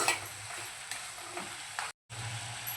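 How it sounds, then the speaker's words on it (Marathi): Spices are stirred into mutton in a hot pan for a dry mutton sukka, a close steady sizzle with soft scraping strokes and a brief cut to silence near the end. "आता सर्व मसाले मटणाला छान एकजीव करून घेऊया."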